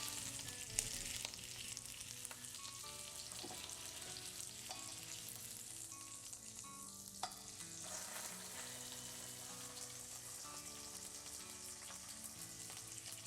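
Grass-fed steaks searing on a Weber grill, a steady even sizzle that holds through the whole stretch, with faint clicks and tonal background sound underneath and no speech.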